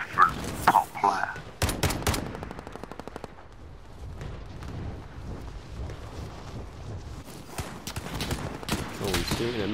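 Video game gunfire crackles in rapid, fairly close bursts and scattered shots throughout, mixed with game effects while someone talks over it.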